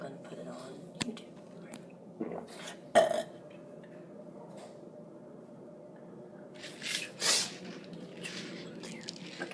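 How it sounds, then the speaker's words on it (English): A person burps several times on purpose, with a loud belch near three seconds and a longer one around seven seconds, other faint throaty sounds in between, and no speech. "Right now I'm going to do some burping"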